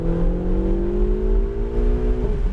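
A Ferrari 488 GTB engine accelerates hard on the Pocono Raceway track, a loud, steady rising drone with sustained harmonics that climb smoothly, then dip as the revs change near the end, with no talk over it.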